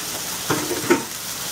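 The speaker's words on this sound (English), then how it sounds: "So we're going to just saute." Vegetables saute uncovered over low heat in a pan with barely any oil, giving a soft continuous sizzle with two brief stirring scrapes close by, no voices.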